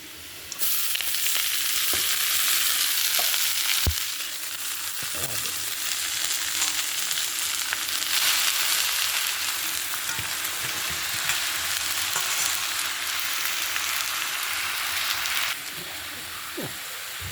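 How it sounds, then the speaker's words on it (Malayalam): Shallots, bird's eye chilies and garlic sauté in a pan with a loud, constant close-up sizzle, dotted with occasional stirring knocks and scrapes; no voices. "തോന്നുള്ളിയും കാന്താരിയും വെളുത്തുള്ളിയും എല്ലാം കൂടെ ഇങ്ങനെ കുറച്ച് വഴറ്റാൻ വെച്ചിട്ടുണ്ട്"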